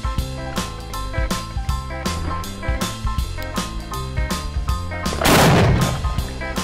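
Shots from an S&W 500 Magnum revolver fired at a ceramic pot outdoors in wind, a rapid series of loud, sharp reports, with a burst of breaking crash near the end.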